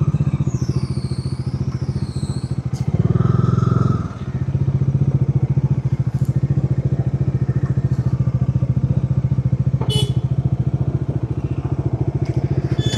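A motorcycle engine idles steadily up close while the bike is parked, broken by a brief louder clunk and burst early on before the even idle resumes.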